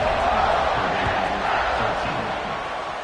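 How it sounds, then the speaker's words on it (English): Packed American college football stadium crowd at a Purdue game before a kickoff, a loud, continuous roar of cheering and shouting filling the whole stretch with no one speaking close up. "this crowd now ready to get behind them."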